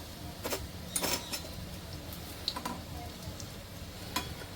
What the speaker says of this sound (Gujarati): બીજો લોટ નાખી દીધો છે ફ્રાય કરવા માટે મસ્ત એકદમ ગોલ્ડન કલર થાય છે